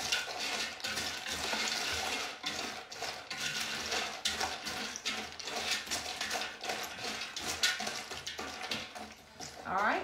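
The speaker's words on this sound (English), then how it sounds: "stir it. Make sure you get all the mixture coated really well" Snack mix being stirred to coat it in liquid inside a deep pan, with continuous scraping and rattling of pieces and utensil against the pan, busy and close, with a voice faintly underneath.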